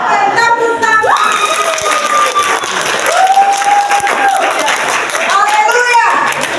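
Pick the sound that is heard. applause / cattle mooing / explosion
applause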